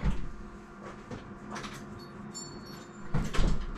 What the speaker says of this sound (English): keep getting in and out on the door